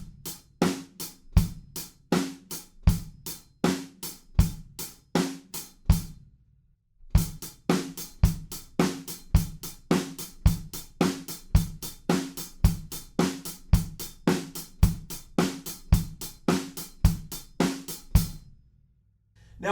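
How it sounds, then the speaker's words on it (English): A straight drum-kit groove plays steadily and loud: kick and snare alternate in an even pulse, with hi-hats dropped on every snare hit. It pauses briefly midway, then resumes at the same tempo before stopping. "and every time the snare plays, we leave out the hi-hats."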